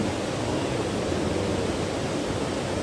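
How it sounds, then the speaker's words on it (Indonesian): The Jurug Blinguk waterfall in Ponorogo roars as a steady, dense rush of falling water, loud and unbroken throughout, with no voices over it. "Tentang air terjun ini ya."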